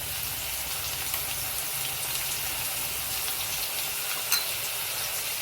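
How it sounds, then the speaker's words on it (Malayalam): Onions frying with ginger garlic paste for kada biryani: a steady, dense hiss and crackle of sizzling oil in a pan, continuous and even throughout with an occasional faint stirring clink. "ഇനി അതിലേക്ക് നമുക്ക് ഇഞ്ചി വെളുത്തുള്ളി പേസ്റ്റും കൂടി ഇട്ട് കൊടുത്ത് നന്നായി ഒന്ന് വഴറ്റിയെടുക്കാം."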